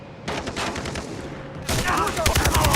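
Rapid bursts of gunfire in the video game Far Cry 3, dense repeated shots that thicken into heavier overlapping fire partway through, loud and close with a faint voice underneath.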